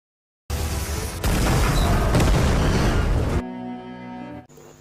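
A police car blows up in a film scene: a sudden loud boom opens a roaring, crackling blast that holds for about three seconds, then gives way to lingering rumble and ringing debris.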